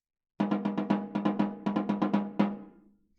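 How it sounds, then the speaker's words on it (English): Snare drum struck with sticks while the snares are switched off: about a dozen hollow, ringing tom-like hits in a quick uneven roll, each note decaying briefly, with a final stroke left to ring out, close and with no talk. "the drum will sound like this when I strike it with sticks."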